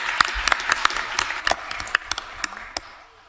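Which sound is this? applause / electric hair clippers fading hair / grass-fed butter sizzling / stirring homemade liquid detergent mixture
applause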